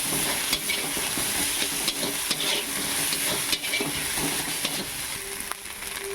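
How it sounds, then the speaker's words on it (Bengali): Steady sizzle of a ginger, garlic, chili and cumin paste frying in a pan, with continuous stirring scrapes and small spatula taps over a dense, even crackle, close and alone without talk. "যতক্ষণ আদা রসুনের গন্ধ না যায় ততক্ষণ এটা নাড়তে থাকবো।"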